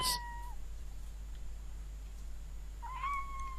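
A cat meows twice in the video game Sherlock Holmes versus Jack the Ripper, a short cry at the start and a longer one near the end, with quiet ambience between.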